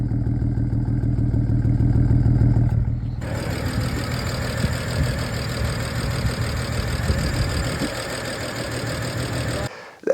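A BMW 335 engine idles with an uneven, rough brapping pulse that makes it sound like a rotary, heard close and steady for about ten seconds before cutting off.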